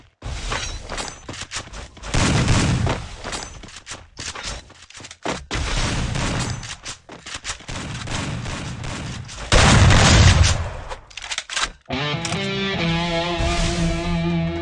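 M1887 shotgun blasts in Garena Free Fire, loud spaced booming shots with shattering impacts across the fight, one especially heavy burst near the end before game music takes over.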